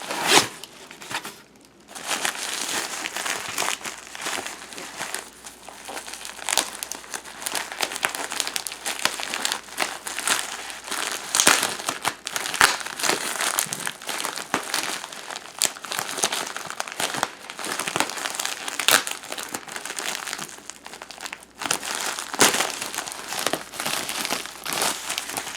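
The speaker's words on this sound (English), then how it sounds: "these are all wrapped individually in tissue paper" Phones wrapped individually in tissue paper being unwrapped, with continuous close crinkling and crumpling of the paper and occasional tearing rustles, steady and busy throughout with no talk.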